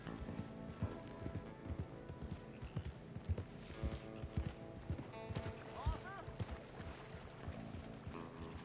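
A horse's hooves clip-clop at a steady gallop in the Red Dead Redemption 2 video game, a rhythmic drumming under game music and ambient effects, fairly faint in the mix.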